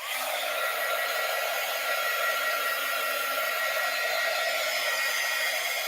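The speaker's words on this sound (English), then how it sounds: "I'm going to dry this a little bit so heat gun alert." Heat gun drying a crayon drawing, a steady, loud, unbroken blowing whoosh lasting throughout, with no voices over it.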